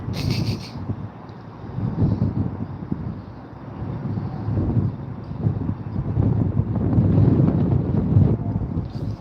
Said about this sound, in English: The wind is bad, I'll tell you that right now.